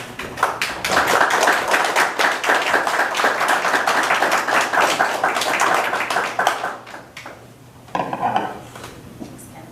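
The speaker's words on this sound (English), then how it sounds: "giving her a round of applause" A crowd applauds with dense, steady clapping that carries on for several seconds before fading out, followed by a brief final burst of claps.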